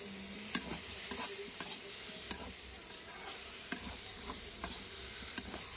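Jackfruit curry with salt is stirred in a pan, a quiet steady sizzle with regular soft clicks and scrapes of the spoon against the pan.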